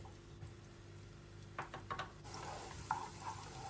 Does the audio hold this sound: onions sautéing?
yes